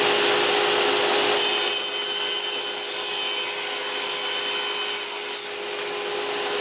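A table saw rips a sheet of plywood to width, its loud, steady high whine carrying through the cut for several seconds before the pitch eases slightly near the end.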